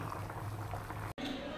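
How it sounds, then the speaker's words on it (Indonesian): Mackerel fish curry boiling in a pot, a steady close bubbling simmer that cuts out briefly near the end before resuming. "Kari pun dah sudah mendidih ya."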